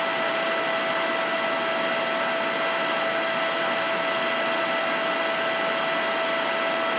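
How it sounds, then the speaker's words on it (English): Motor cooling fan on a Mikini 1610L lathe spinning at roughly 3600 RPM, a loud, steady broadband whoosh with a constant whine running unbroken, with no talking. "So the fan gets pretty loud. This will be around 3400 to 3600 RPM."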